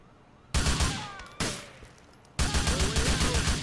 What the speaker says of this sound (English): Oh god, I got shot quite a bit there.